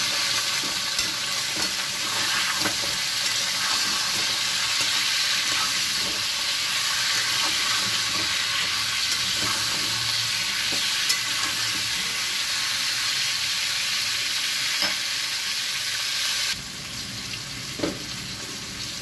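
Potato, pumpkin and stalks frying in a pan, with a steady loud sizzle and hiss throughout and the repeated scrape and clatter of stirring, easing slightly near the end.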